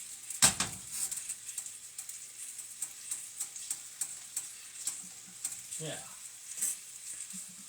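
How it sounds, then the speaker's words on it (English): Chicken browns in a pan for Tuscan chicken, a soft, steady high sizzle running throughout beneath scattered clinks, stirring and scraping sounds, with a brief spoken word near the start. "we're going to brown it, keep it nice and warm, flip it, brown it, make sure it's cooked"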